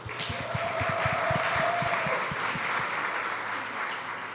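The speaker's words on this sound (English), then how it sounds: "Give her a round of applause, please" Audience applause at a panel on food waste at SXSW in Austin, a steady wash of many hands clapping that holds at full strength for over four seconds without fading.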